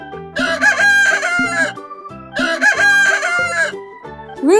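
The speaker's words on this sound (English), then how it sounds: "Rooster." A rooster crows twice in full cock-a-doodle-doo calls, loud and close, with a short pause between the two crows.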